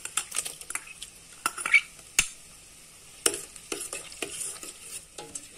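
Finely chopped tomato cooks with soya chaap in a pan, with a quiet background sizzle broken by sharp, irregular clinks and scrapes of a spoon stirring against the metal, and no talking.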